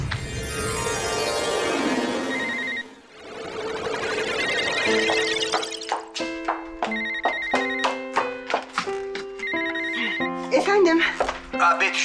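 A telephone rings loudly and close in a busy electronic ringtone, while voices and other sounds of a lively scene play alongside it.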